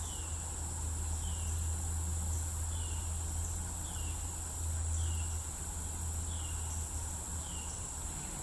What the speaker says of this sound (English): Or at least the birds and the bees in the background.